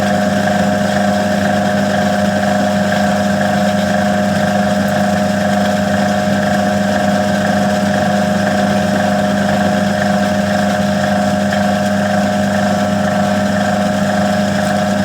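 A repaired Mriya washing machine motor runs steadily, a loud continuous mechanical drone with a constant tonal hum and no change in pitch or rhythm, heard close and alone without speech.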